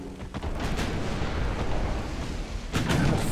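Heavy naval gunfire from a battlecruiser in the Ultimate Admiral Dreadnoughts game: a broad, rumbling boom near the start, a sustained low roar, then another loud blast toward the end.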